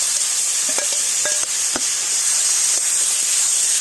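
Ground spice paste frying with Chubri potatoes, salt and turmeric in a pan gives a loud, steady hiss throughout, with a few faint clinks of utensils.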